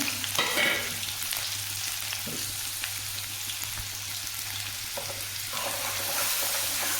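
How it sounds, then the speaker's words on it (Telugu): Small onions frying in a pan, a steady close sizzle with occasional stirring scrapes throughout, no talking. "ఉల్లిపాయలు బాగా ఫ్రై అవ్వాలండి"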